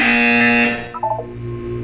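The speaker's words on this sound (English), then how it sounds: "You will hear a buzzer." A loud electronic buzzer in the video game Portal 2 sounds alone as one sustained harsh tone lasting most of a second, then cuts off into a short burst of softer bleeps before a lingering hum.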